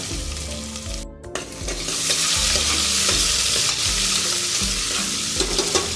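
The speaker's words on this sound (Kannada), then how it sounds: "ಈರುಳ್ಳಿ ಸೇರಿಸ್ತಾ ಇದ್ದೀನಿ ಸ್ವಲ್ಪ ಈರುಳ್ಳಿ ಫ್ರೈ ಆಗಲಿ" Onions frying in oil with curry leaves for an avarekalu pulao, a loud, close, continuous sizzle with stirring scrapes after a brief quiet gap near the start.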